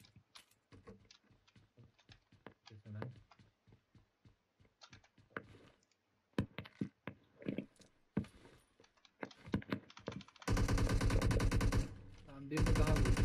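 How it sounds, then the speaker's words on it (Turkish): Gunfire in a video game firefight near a church: scattered sharp single shots and short bursts, some faint and distant, then a loud continuous burst near the end, with a player talking in between. "Kilisenin orada bir çatışma daha var bu arada."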